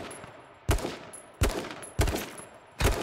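Four sharp, loud gunshots from a video game shooter, fired one at a time with irregular gaps of roughly half a second to a second, each a hard crack with a short decaying tail, close up and free of talk.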